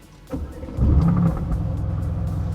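A Mercedes-AMG GT S 500 hp V8 fires up with a sharp starter catch, then settles into a deep, steady idle rumble, close and loud with no talking.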